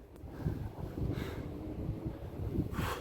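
Wind gusts across the Markhotsky mountain ridge during a climb against the Nord-Ost wind, a low steady rumble with soft buffeting swells, moderately faint and without speech.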